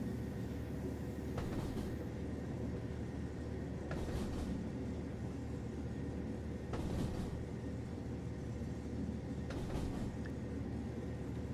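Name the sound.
train track clacking in Train Sim World 3, video game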